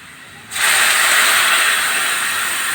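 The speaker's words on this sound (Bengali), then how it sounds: "ভালো হয়ে গেছে, এখন জল দিয়ে দেবো।" Water poured into a hot pan of aloo posto bursts into a loud, sustained steam hiss that begins abruptly and holds steady, with no talking.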